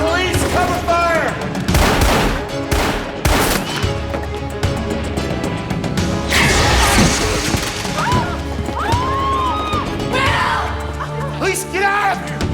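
Police shootout in a TV drama: loud, close gunshots and crashing impacts in a dense fusillade, mixed with shouting voices and tense background music throughout.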